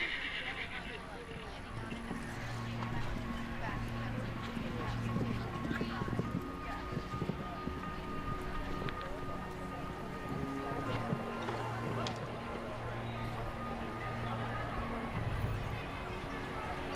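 Hooves of a show jumper drum over the turf during a Nations Cup Grand Prix round in Ocala, faint under a steady crowd murmur, with tonal horn notes and a commentator talking throughout.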